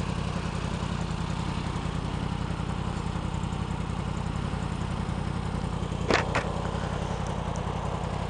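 A BMW motorcycle engine running steadily with a dense, even clattering rumble, close and loud throughout, with a brief sharp tick partway through.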